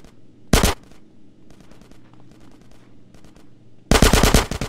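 Gunfire in GTA San Andreas: a loud automatic burst opens, then fainter rapid shots patter in the background, and a second heavy rattling burst of automatic fire closes out.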